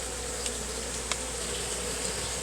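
Steady, dense buzzing of many bees swarming around an open hive, with a few brief sharper sounds over the constant drone and no talking.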